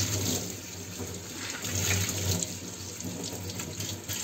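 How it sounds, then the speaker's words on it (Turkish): A cloth is rinsed under a running kitchen tap: a steady, close stream of water splashes and gurgles continuously, with slight shifts as the cloth is worked under it. "Şimdi bezi güzelce yıkıyoruz."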